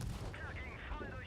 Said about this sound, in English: everything's just exploding